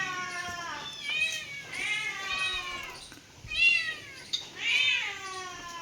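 A cat meows repeatedly up close, several drawn-out, wavering cries in a row with short pauses between them.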